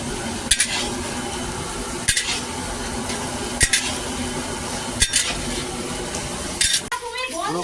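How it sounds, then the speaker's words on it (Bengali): Spice paste frying in a pan with a steady sizzle, punctuated every second or so by sharp clinks of a spoon scraping and stirring against the metal, close and fairly loud. "পুরো মশলাটা পুরো একদম ফুল ভাজাভাজি হচ্ছে"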